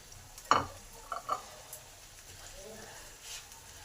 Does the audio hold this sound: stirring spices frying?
yes